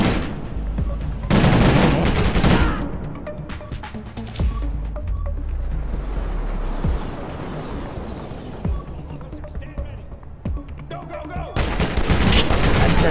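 Gunfire in the video game Armed Heist: dense bursts of shots and impacts roll through the whole stretch, loudest near the start and end, with game effects layered underneath.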